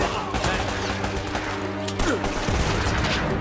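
Gunfire in the video game Uncharted: Drake's Fortune, a dense fusillade of rapid shots with booming impacts over layered game music and effects, loud and continuous throughout.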